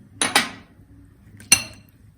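Guacamole with lemon juice stirred in a bowl: a quick pair of sharp spoon-against-bowl clinks, then a pause and one more ringing clink, close and clear with nothing else around.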